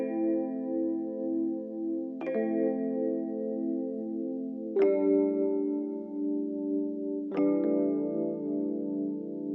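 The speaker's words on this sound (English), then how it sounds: "So I added these minor chords that just sound like this." Airy, soft electronic keys play sustained minor chords made in FL Studio, with a new chord struck about every two and a half seconds and each ringing out smoothly, alone with no voices.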